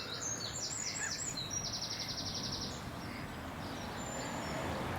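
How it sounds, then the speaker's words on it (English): Birds gathered at Stonebridge Pond chirp and tweet in quick, high repeated calls over a steady outdoor background hiss, fairly faint and continuous. "Clearly people are ignoring the instructions not to feed the birds, because they're all gathering around me"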